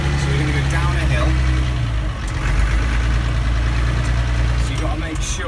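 A Case or David Brown tractor engine runs in gear while rolling downhill, a loud steady low rumble that keeps going throughout, with talk over it.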